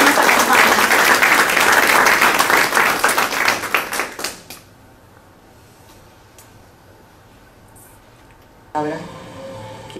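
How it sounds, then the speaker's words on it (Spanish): Audience applause at a poetry concert, loud and dense clapping for the first four seconds before fading into near quiet, then a brief burst of sound returns near the end. "aplauso para Marco Antonio Cortera, que estoy segura que esta noche también nos acompaña"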